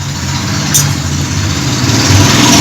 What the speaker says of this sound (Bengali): বন্ধুরা গাড়ির আওয়াজ তো নিশ্চয়ই শুনতে পাচ্ছেন রাস্তা দিকে রান্নাঘর